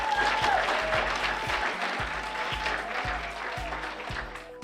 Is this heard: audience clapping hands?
yes